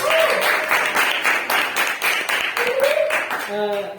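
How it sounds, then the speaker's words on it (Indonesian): An audience applauds after a presentation in a steady burst of many clapping hands, with voices heard over the claps toward the end. "Kita tepuk tangan dong buat Pak Adit."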